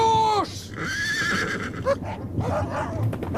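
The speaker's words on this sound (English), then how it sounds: "My horse!" A horse neighs loudly at the start of a radio drama scene, followed by a busy mix of hooves, scuffling and background commotion with brief voices.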